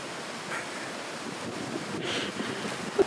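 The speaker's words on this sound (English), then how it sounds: "The wind." Wind gusting along an exposed coastal hiking trail on the Great South West Walk in Australia, a steady broadband rush with surf-like swells and a brief knock near the end, no talking.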